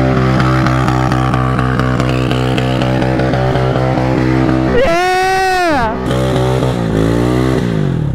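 A mini four-wheeler ATV engine revs hard and continuously while drifting, a loud, buzzy high-pitched whine that rises and falls in pitch, with a sharp swoop near the middle.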